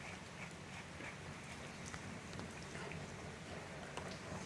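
Steady rain falls outdoors in a garden, a soft continuous hiss with faint scattered drops, fairly quiet and distant with no voices.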